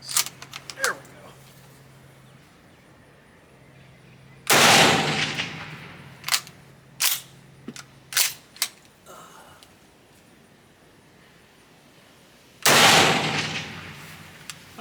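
Shots from a converted gun, prone to double feeding, crack out in several separate reports: two loud blasts stand out among quicker, lighter bangs, with quiet gaps between them.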